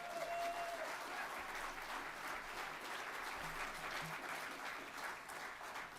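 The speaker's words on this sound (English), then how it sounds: "Round of applause once again for the bird." An audience at a charity gala applauds steadily for several seconds, a dense, even patter of many hands at moderate volume, with a faint voice or murmur briefly underneath.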